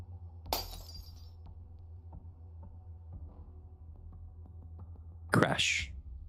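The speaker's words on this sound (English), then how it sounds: "Fragile throws the glass vial into the box, and the glass shatters, letting out the E2 crystal." A glass vial shatters in the video game Nikke, a sharp crash early and a louder, bright burst of breaking glass near the end over a quiet low hum.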